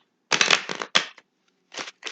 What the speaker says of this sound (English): Give me a good shuffle.